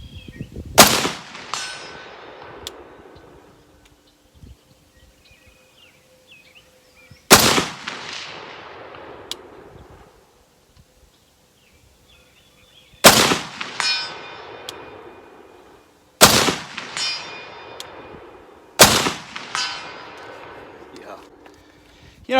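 Five sharp, loud rifle shots from an M1A fitted with a Ryker grip are fired outdoors several seconds apart, each with a ringing clang and a decaying echo.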